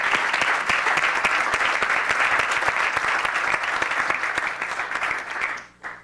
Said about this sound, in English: People applaud, and he deserves it.